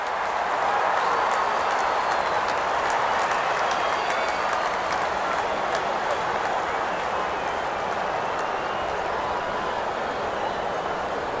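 Crowd noise fills a cricket stadium in the video game Real Cricket 24 during an India versus Pakistan match, a dense, steady roar with scattered claps that continues without a break.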